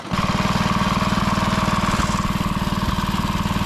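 A 1960s Rollo Croftmaster mini tractor runs in top gear, its small engine chugging in a fast, even pulse, loud and close throughout with no talking.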